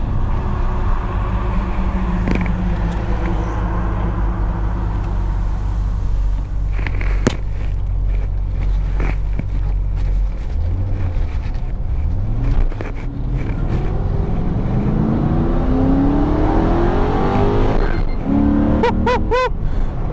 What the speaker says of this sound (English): It spins tires going from first to second.